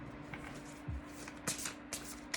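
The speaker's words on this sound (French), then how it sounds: "Je vais tirer maintenant une carte" Tarot card drawn from a shuffled deck, faint close flicks and soft snaps of cards against a steady low hum, a few quick riffles spread over a couple of seconds.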